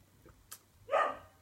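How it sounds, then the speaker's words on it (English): A dog barks indoors, a short faint yip followed by one louder, fuller bark, with quiet room background and no talking. "That's my dog going crazy."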